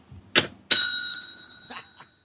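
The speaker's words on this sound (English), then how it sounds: "is the tap bell close by?" Two bright metallic dings of a tap bell, the second ringing out and fading slowly, with a couple of softer clicks after.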